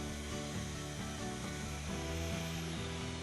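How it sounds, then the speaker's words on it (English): A Festool TS 75 plunge-cut circular saw running on its guide rail makes a bevel cut through wood, giving a steady, dense whine with shifting tones, continuous and fairly faint throughout. "The TS75 makes once difficult bevel cuts fast and simple."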